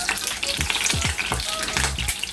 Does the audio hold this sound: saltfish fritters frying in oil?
yes